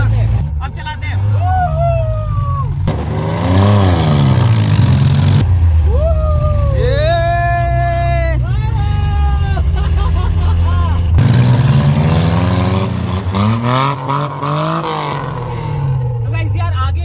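Two cars joined together, one driven in first gear and the other in reverse, roar loudly and close with rising and falling engine revs, while voices talk and call out over the noise.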